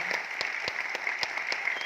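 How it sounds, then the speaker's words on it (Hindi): Indoor audience applause at a talk in Aurangabad, a dense patter of clapping with a few sharper individual claps standing out, steady and moderately loud. "ताली जोरदार बजाएं।"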